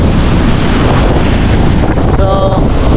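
Strong wind buffets an outdoor microphone during flooding, a loud continuous low roar with gusty rumble throughout, with faint water or boat sounds mixed in near the end.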